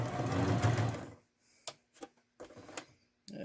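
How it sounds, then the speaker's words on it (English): Sewing machine stitching a hem on a cushion cover, a loud steady mechanical run for about a second, followed by a few short separate clicks and stitch bursts. "I don't worry about back stitching when we're doing these hems because it's all going to be sewn in at the end"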